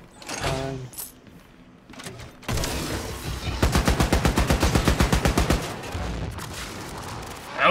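Heavy weapon fire in the shooter game Wolfenstein Youngblood: a loud, rapid burst of evenly spaced shots after scattered thumps and blasts, ending in a rumbling tail.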